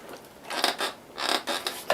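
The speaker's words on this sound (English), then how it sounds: "we've got that Tokyo Marui creak" Plastic stock of a Tokyo Marui AA12 airsoft gun creaks as it is flexed by hand, several short dry crackling bursts in quick succession, close and fairly quiet with no talk.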